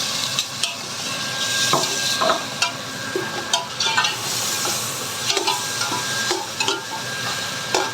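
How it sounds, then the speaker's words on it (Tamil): Tomatoes stirred into fried onions in a pan for Sri Lankan chicken biryani, with steady sizzling and repeated sharp scrapes and clinks of a spoon against the pot. "இந்த டொமாட்டோ போட்டு நல்லா கிளறி போதும்"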